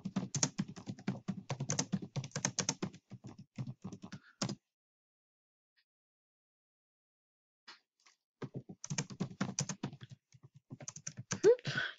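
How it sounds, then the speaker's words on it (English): Rapid, constant clicking of a computer keyboard being typed on nearby, in two bursts separated by a few seconds of silence, fairly faint with no talking. "You're gonna hear me constantly clicking."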